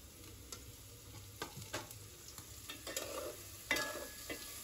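Oil sizzles steadily in a pan before turmeric and salt go in, with scattered stirring scrapes and small clinks over a low hiss, close by and fairly quiet.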